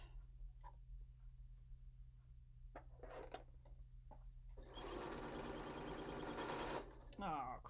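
A sewing machine stitches a square-in-a-square pillow as its bobbin runs out, starting with scattered clicks and taps, then a steady rapid mechanical whir for about two seconds, stopping abruptly with a few rattles.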